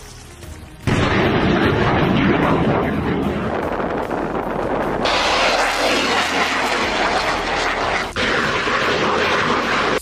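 A HIMARS rocket launcher fires during a Taiwanese military exercise, starting with a sudden blast and becoming a loud, continuous roaring rush that lasts several seconds.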